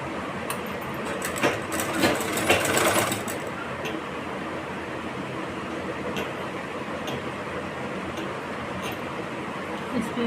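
A sewing machine stitches a blouse in a continuous close mechanical whir, with a brief burst of sharp clatter early on before it settles into an even drone.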